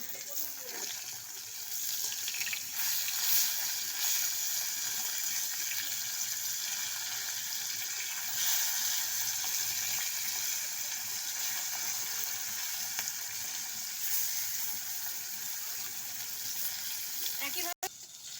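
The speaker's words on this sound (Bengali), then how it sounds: "এক পাশ হয়ে গেছে ভাজা আমি পাশ উল্টে নেব" Bata fish pieces frying in oil after being turned in the pan, a long, even sizzling hiss that stays constant throughout, with a few faint clinks and a short cut near the end.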